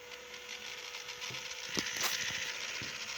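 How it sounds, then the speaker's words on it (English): Small DC motors in a university mechatronics project turn very slowly at a low duty cycle, giving off a soft, steady mechanical whir with faint ratcheting clicks and a few sharper ticks. The sound is quiet and close, with no voices. "You can see the motors rotating very slowly, and you can hear them."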